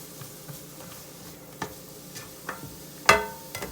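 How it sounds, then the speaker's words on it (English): Onions sweating in a pan, a soft low sizzle with sparse ticks and stirring taps, one sharper clink near the end, no talking. "So we're gonna let that sweat down and get translucent"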